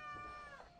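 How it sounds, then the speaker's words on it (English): A house cat lets out one drawn-out, whiny meow, faint and tonal with a slight falling pitch, heard alone in under a second. "If you hear crying, that is my other cat."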